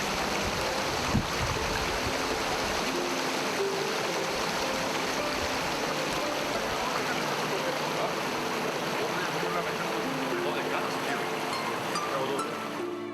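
The Satarska river flows through Botun village, a steady broadband rush of running water heard close and continuous for the whole stretch, with faint voices in the background.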